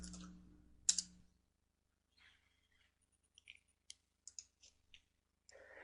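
Short bursts of typing on a computer keyboard while using MATLAB: a few scattered clicks and keystrokes, close and fairly quiet, with silent gaps between them.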